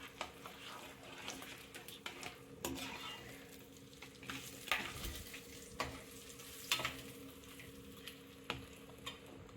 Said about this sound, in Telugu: ఇప్పుడు ఇందులో ఆనియన్స్ వేసుకుంటాను, ఎందుకంటే నేను ఫ్రైడ్ ఆనియన్స్ చేయట్లేదు.